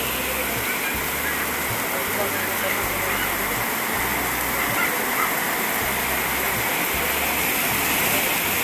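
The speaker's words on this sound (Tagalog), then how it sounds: "Inabot pa kami ng ulan." Heavy rain pours down steadily during an outdoor birthday party, a dense continuous roar of water with no pauses, loud and close throughout.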